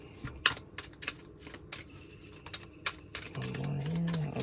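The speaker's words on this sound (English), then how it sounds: "2 more shuffles" Tarot cards are riffled and shuffled at close range in quick papery flutters and taps, with a brief tonal sound near the end.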